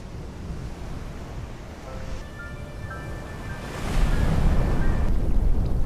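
Ocean waves rolling onto a beach in a steady, moderately loud wash, with a surge of surf building louder near the end and light wind noise underneath.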